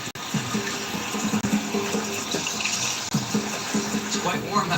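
Warm sulfur water flows in a stream outdoors, a loud, continuous rushing wash with small gurgles and a couple of brief knocks.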